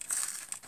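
Adhesive tape is peeled off a package of jewelry craft supplies, making a brief, close, crackly ripping rustle.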